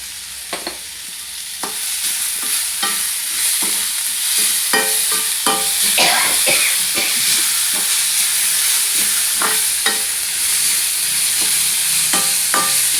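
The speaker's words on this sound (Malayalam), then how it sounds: "കുറച്ച് ഉപ്പിട്ടിട്ട് വരട്ടിയാൽ പെട്ടെന്ന് വാടിക്കിട്ടും." Ingredients for a soya chunks cutlet are sautéed with salt in a pan, with a loud, steady frying sizzle and repeated scraping stirs of a spatula against the pan, close up and without talking.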